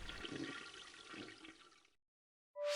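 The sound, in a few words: toilet flushing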